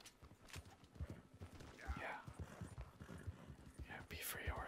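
Horse hooves clip-clop steadily in Red Dead Redemption 2, mixed with a brief whinny and game sounds, while someone talks quietly over much of it.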